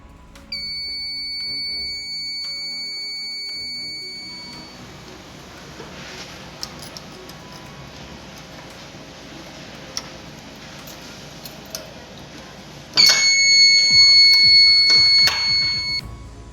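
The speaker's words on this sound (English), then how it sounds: "The on time of the buzzer depends on resistance and capacitance values." A high electronic buzzer tone from a 555-timer touch sensor circuit sounds steadily for a few seconds, goes quiet amid faint ticking, then sounds again louder near the end.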